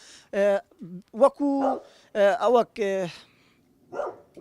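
Several short, close bursts of stray dogs barking and yelping on a street come in quick uneven clusters, separated by brief silences.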